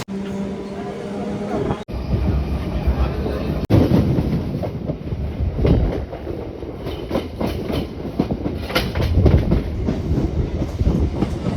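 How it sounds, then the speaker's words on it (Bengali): A Bandel local train pulls out of the station with a rumbling roll and rhythmic clickety-clack of wheels over rail joints, loud and close, building steadily, with voices talking faintly over it. "এই যে ট্রেন বেরিয়ে চলে যাচ্ছে ব্যান্ডেল লোকাল"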